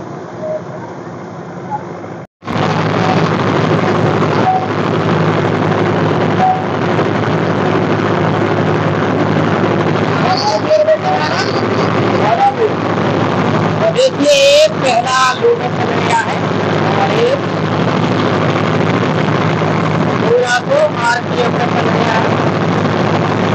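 A tractor-driven straw chaff-making machine runs outdoors with a loud, constant mechanical engine drone and a churning roar that holds steady throughout, with brief higher rattles over it.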